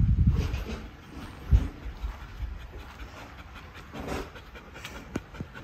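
A pet dog panting at home, quick rhythmic breaths close to the microphone with occasional louder huffs and soft rustles, with no voices over it.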